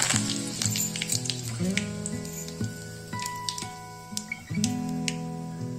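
Curry leaves hit hot oil in a kadhai already crackling with mustard seeds and cumin for poha: a bright sizzle bursts up and settles, sporadic pops throughout, over a faint steady tone and without speech.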